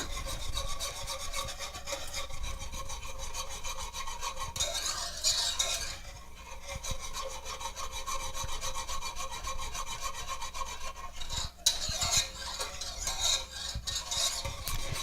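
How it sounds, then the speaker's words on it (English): Chocolate pie filling being stirred in a pot over medium-high heat, a steady rhythmic scraping and rubbing of a utensil against the pot, close and continuous with brief pauses, with no talking. "It's on medium-high heat, and we're just mixing it until it comes to a simmer."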